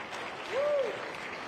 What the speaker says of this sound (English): Give Katie another round of applause